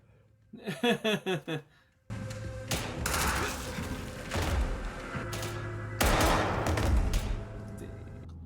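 Gunfire in the Squid Game TV show opens with a short burst of speech, followed by repeated booming shots and thuds over a dense, noisy background.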